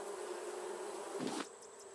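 Bees buzz in a video game, a steady droning hum that holds close and even, swelling briefly before cutting to a thinner tone near the end, with no speech.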